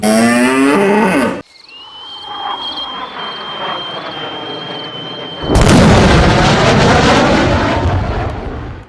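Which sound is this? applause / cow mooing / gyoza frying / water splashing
cow mooing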